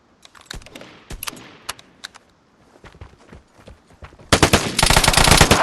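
Burst-mode gunfire in the video game Vigor, sharp isolated shots and short clusters at first, then a loud, dense, rapid stream of fire near the end.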